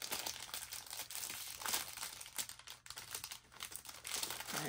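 Plastic packaging for a cheap toy pack being torn open by hand, giving continuous crinkling and ripping close up, with no talk.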